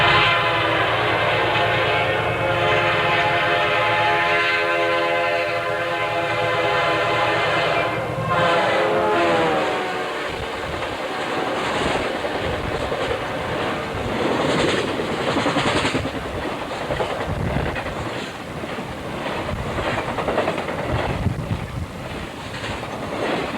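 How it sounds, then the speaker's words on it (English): A B32-8 diesel locomotive running alone at the head of a southbound Triple Crown intermodal train blasts a long, loud horn, then rumbles past with steady rolling clatter and rail noise. "southbound Triple Crown Train 249 at Central, with B32-8 number 532 pulling the train all by itself"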